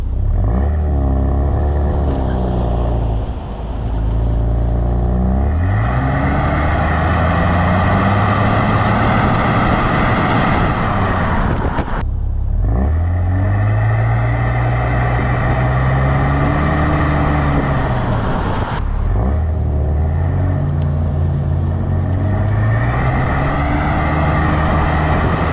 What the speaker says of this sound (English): let's take a listen to the exhaust now while driving